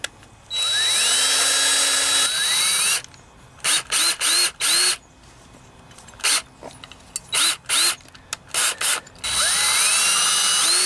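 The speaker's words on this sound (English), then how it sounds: "I'm going to drill a small hole down through the center of it." A power drill revs up in a long whining run, then several short bursts of drilling a small hole in a Briggs and Stratton twin-cylinder engine part, and a final sustained run, loud and close.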